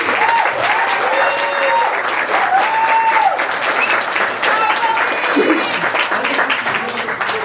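Wedding guests applauding in a steady, dense round of clapping that fills the whole stretch, with voices calling out and chattering over it throughout.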